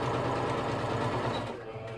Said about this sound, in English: and then we're going to want to sew it down.